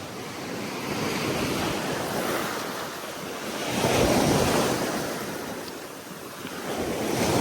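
Ocean waves roll in and wash up onto a sandy beach in slow swells, carrying sand, the surf rising and falling with some wind noise and no talking.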